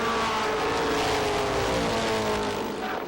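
Pro stock race cars roar down the front stretch at Lee USA Speedway in 1993, a loud continuous engine drone with shifting pitch as several cars pass together, heard from the stands without talk.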